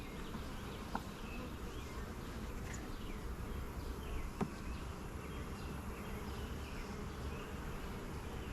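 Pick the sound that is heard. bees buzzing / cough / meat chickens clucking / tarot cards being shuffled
bees buzzing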